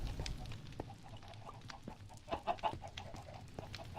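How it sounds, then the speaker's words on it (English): Chicken clucks in a video game, a few soft scattered clucks, with a small cluster of louder ones midway, over a low, steady ambient background. "you constantly hear this clucking"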